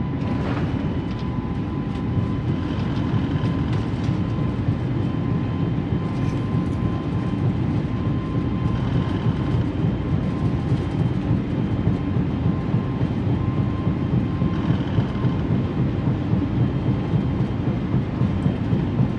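Airbus A320neo jet engines in a flight simulator spool up to takeoff thrust, a loud, steady broadband roar that holds without break, with a faint tonal whine riding over the rumble.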